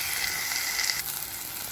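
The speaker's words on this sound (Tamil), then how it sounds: "இப்போ இது நல்லா வதங்கட்டும்." Ingredients sautéing in a pan, a brief steady hiss of sizzling oil, fairly loud and close, with no talking.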